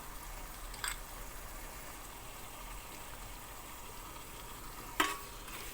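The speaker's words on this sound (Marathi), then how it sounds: "हे मिक्स करून आता यामध्ये नूडल्स घालायचे" Noodle masala stirred into vegetables in a cooking pan, a steady low sizzle and scraping stir running throughout, with a couple of brief sharper clinks of the utensil against the pan.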